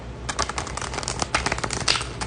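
A deck of tarot cards is shuffled up close, a dense run of quick papery riffles and flicks lasting a couple of seconds with no voices.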